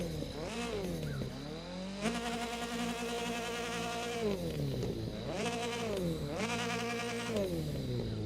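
A Mitsubishi Lancer WRC05 rally car engine in The Crew 2 revs high and buzzy, rising and falling through repeated throttle blips and gear changes, loud and close without any talk.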